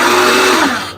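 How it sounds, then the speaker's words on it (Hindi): Immersion blender whirring through blanched beetroot in a home kitchen, a steady close motor whine that holds for most of a second, dips in pitch, then cuts off. "इमर्जन ब्लेंडर में से ब्लेंड कर रही जी।"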